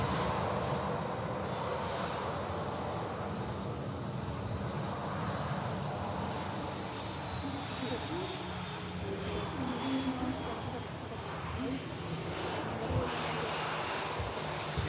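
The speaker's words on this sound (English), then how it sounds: "Dreamliner next to touchdown from Mahon." Boeing 787-8 Dreamliner arriving from Mahon and touching down at Manchester Airport, a steady broad engine roar heard from a distance that holds throughout with a faint high whine above it.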